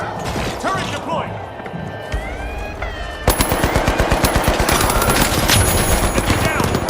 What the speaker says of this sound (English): Turret deployed.